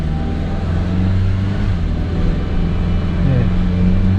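A used Chevrolet Spark's engine revs up under full throttle on a test drive at a used car lot, a steady droning hum with rising pitch sweeps, loud and continuous, with a voice talking over it.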